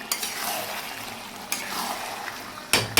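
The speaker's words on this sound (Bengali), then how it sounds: "এখানে যে চিকেন কষাতে বসে দিয়েছি" Chicken being sautéed in a pan: a continuous sizzle broken by three sharp scraping stirs at the start, middle and end.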